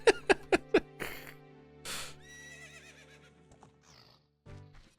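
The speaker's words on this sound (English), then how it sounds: "Why are you neighing so much?" Epona, the horse in the Zelda: Ocarina of Time video game, whinnies in a quick run of four sharp close neighs, followed by further snorting whinnies and game sounds.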